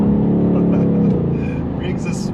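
A 2021 Ford Mustang Mach 1 with its active valve exhaust open revs close by, a deep, loud engine note that holds and then eases off as the car moves.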